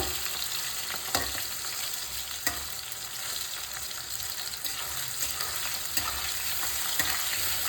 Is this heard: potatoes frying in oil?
yes